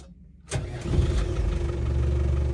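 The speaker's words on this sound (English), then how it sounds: "quick video of start up and idling on this Defender 90 300 TDI" A 1997 Land Rover Defender 90 with the 300 TDI diesel cranks briefly and fires straight away, then settles into a steady, close, rumbling idle with no talk.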